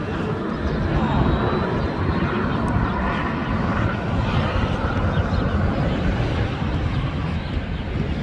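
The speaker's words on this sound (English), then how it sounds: "Norse Atlantic Airways departing for Oslo, Norway." Norse Atlantic Airways Airbus A350 departing LAX for Oslo, a steady broadband jet roar held at constant loudness throughout, fairly close and continuous with no voices.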